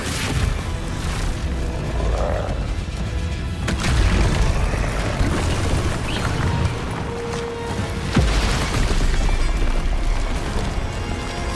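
An Expulso explosion spell in Hogwarts Legacy: loud booming blasts with crashing debris and a rumbling roar, the strongest impacts arriving around four and eight seconds in, near and heavy over continuous battle noise.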